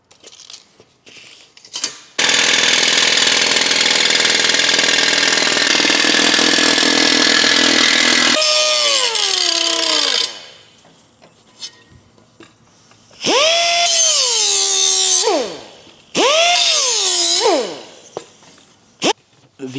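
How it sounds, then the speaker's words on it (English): Power tools working a scrap quarter-inch aluminum mounting plate for an Evo 8 ECU install: a long, steady, loud cutting whine, then a drill that repeatedly spins up and winds down in short bursts, with quiet pauses between. "The mounting plate is cut and drilled"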